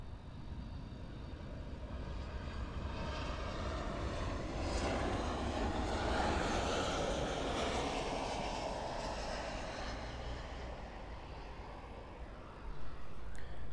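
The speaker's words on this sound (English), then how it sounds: "here is the Southwest 737 MAX 8 Flight 604 arriving in from" A Southwest Boeing 737 MAX 8 jet arriving at Miami International Airport, its engine roar loud and steady throughout, swelling slightly mid-pass with no voices present.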